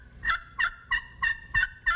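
Turkey friction call played on an aluminum surface, giving six evenly spaced, high-pitched yelps at a steady rhythm, close and clear.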